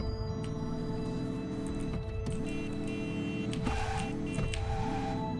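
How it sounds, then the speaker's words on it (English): Engine and motor tones from cars in a video game, with a low droning hum that rises and falls in repeated sweeping arcs, steady and fairly loud throughout, alongside a few brief higher chirps and dings. "Those are some interesting car sounds"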